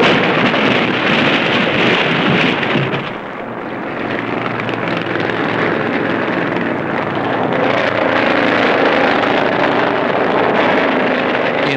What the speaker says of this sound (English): A 190-mile-per-hour crash tears apart six automobiles in the backstretch.